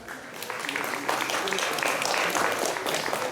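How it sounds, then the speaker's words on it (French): Audience at a French magic and mentalism show applauding loudly and continuously, a dense wash of clapping with a host's voice running underneath. "on va l'applaudir bien fort"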